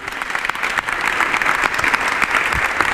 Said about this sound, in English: Shall we please give His Excellency a resounding round of applause?